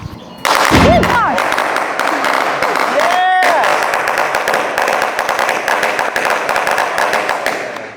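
Loud, rapid crackling bursts from a firecracker sound-effect machine at a Taiwanese wedding banquet pop continuously like a string of firecrackers, with whistling tones early on and voices underneath.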